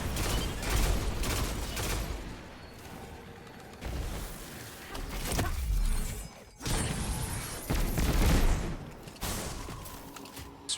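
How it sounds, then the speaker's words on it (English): In the Destiny 2 video game, a Scorch Cannon fires amid rapid bursts of gunfire and booming explosions, loud crashing salvos in several waves with short lulls between them. "And then we take a scorch cannon."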